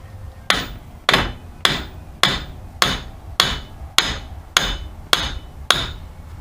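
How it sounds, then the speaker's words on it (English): A hammer taps the end of a CV joint on a 1997 Pontiac Grand Prix, ten sharp metallic strikes in a steady, even rhythm, each with a short ringing decay, close and clear. "you're going to want to tap on this, the end of the CV joint a little bit, just to break it loose"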